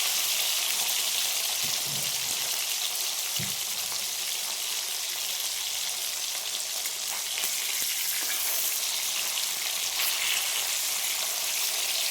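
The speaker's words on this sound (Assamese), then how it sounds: "মাছ অলপ ভাজি লওঁ, এখন তৰকাৰী বনাওঁ।" Fish fries in a little oil in a hot wok (kerahi), giving a loud, continuous bright sizzle close by, with a few soft clinks of stirring underneath and no talking.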